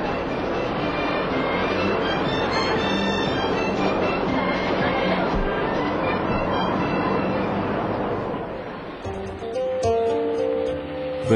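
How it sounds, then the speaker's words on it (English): A train rolls along the rails with a steady, dense rumble throughout, heard from on board or close by, with a shift in tone near the end as the sound changes. "The Dalai Lama took the train for the first time."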